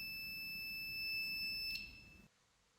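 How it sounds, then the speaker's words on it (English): Continuity beep from a multimeter testing a cable, a single steady high-pitched tone held for a couple of seconds and then cut off, fairly faint over a low background hum. "This beep sound means the cable has a good continuity and no damage done to the cable."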